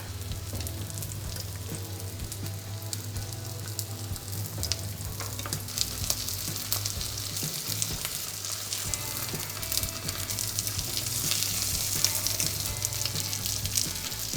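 Breaded cordon bleu sizzles steadily in hot oil in a pan over fairly high heat, a continuous close crackle with no voices.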